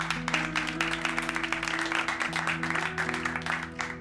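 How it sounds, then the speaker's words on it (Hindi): A group applauds from start to finish, a fast, even clatter of clapping hands over a sustained musical tone that shifts pitch partway through. "तालियां"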